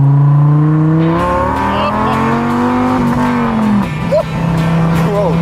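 A Dodge Viper sports car engine runs steadily and loud, its pitch holding then dipping and climbing again as it drives, with people talking over it.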